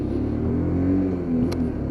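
Lexmoto LXS motorcycle engine shifting gears, a steady low rumble that pitch-shifts as the gear changes partway through, heard close and sustained with no talk.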